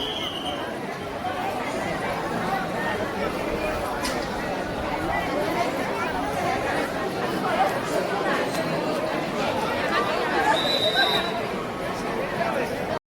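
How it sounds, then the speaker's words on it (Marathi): Crowd of pilgrims at a temple in Kolhapur, a dense outdoor hubbub of many overlapping voices and murmured chatter, steady and moderately loud throughout. "इथं आज जास्तच गर्दी वाटते आहे."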